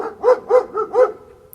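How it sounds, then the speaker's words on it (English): Loud dogs bark sharply four or five times in quick, evenly spaced succession, close and alone with no talk. "I found some really loud dogs."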